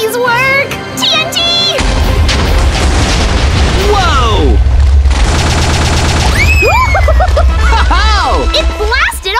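Booming TNT blast in Minecraft, a loud burst of crackling explosion noise that rolls on for several seconds, with excited voices shouting over and around it.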